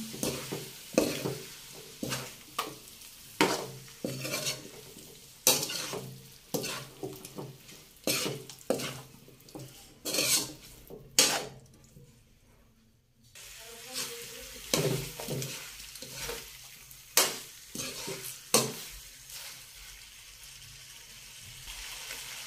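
Carrots and potatoes are stirred in a pan, a spoon scraping in a steady rhythm of repeated strokes over a soft sizzle, with a brief quiet pause midway; no one talks.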